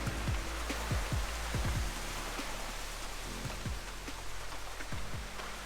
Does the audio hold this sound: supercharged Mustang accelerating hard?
no